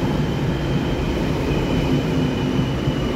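Taiwan Railway PP Tze-Chiang express, twelve PP cars between E1000 power cars, leaving Miaoli station, heard as a steady, loud rumble of rolling stock that stays even throughout, with no voices.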